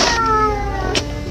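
A cat gives a short, loud, close meow with a slight rising then falling pitch, followed by a brief breathy noise near the end.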